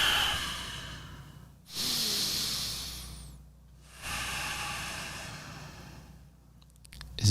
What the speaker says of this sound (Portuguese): eu faço um tipo de respiração